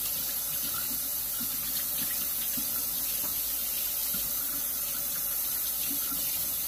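A kitchen faucet runs steadily into a sink while fish are washed and scrubbed for Liberian pepper soup, a constant close hiss of water with soft splashes and handling sounds.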